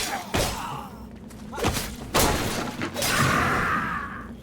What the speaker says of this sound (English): there's an archer shooting us now